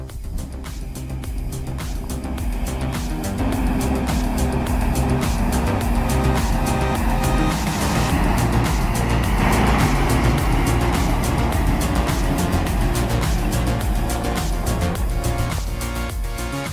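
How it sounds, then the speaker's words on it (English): A 430 HP MAN logging truck hauling 50 tons of wood through winding curves, its engine a loud, steady, close drone with shifting tone and no voices throughout. "The 430 HP man truck hauls 50 tons of wood through winding curves."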